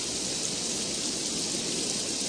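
Steady rain pours down outdoors over a gathering of people, a dense even hiss with no break and no talk.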